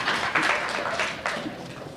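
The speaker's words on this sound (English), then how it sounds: "give her a round of applause" Audience at a Brooklyn community economic forum breaks into a short burst of applause, dense crowd clapping that surges and fades over a couple of seconds.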